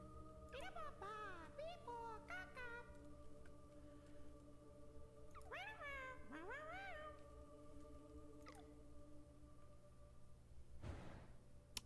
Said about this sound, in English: Why do they sound like cats?